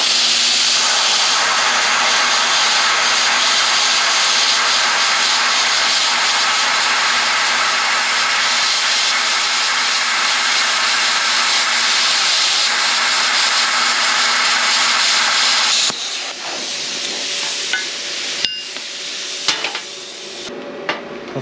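A Simder SD4050PRO plasma cutter slices a chunk off metal with a loud, harsh continuous hiss and roar for about sixteen seconds, then cuts off, leaving quieter clicks and scattered small noises.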